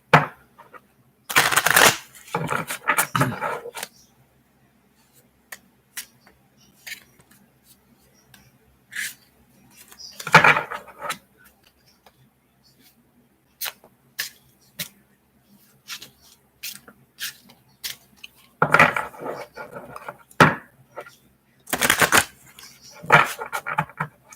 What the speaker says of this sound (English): So what I'm doing now is just really shuffling the cards nicely.